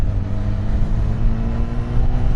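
Honda CB1000 Hornet 1000cc naked motorcycle pulling hard in third gear in sport mode, a loud, steady engine drone with a deep rumbling hum and constant rush, heard from the rider's position without a break.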